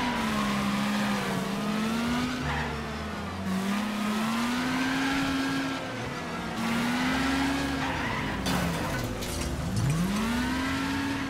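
Cars race in the Wreckfest video game, engines whining and revving up and down continuously while tires squeal and skid, with brief impacts amid the loud, dense racing noise.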